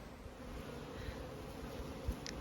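Honey bees buzzing inside a beehive box, a steady low droning hum, faint and close, with one brief knock near the end.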